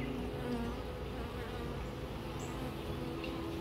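Swarm of honey bees droning steadily around an open beehive during an inspection, a dense continuous buzz heard close up with no voices.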